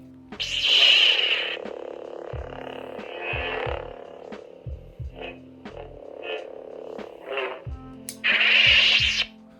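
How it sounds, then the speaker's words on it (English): A Cal Kestis Legacy toy lightsaber from Galaxy's Edge makes electronic whooshing hums that swell and fade, a bright buzzing ignition at the start and another near the end, with short swinging swooshes and clicks between, no talking. "So that was the ignition, deactivation, and all the swings and motion sound effects."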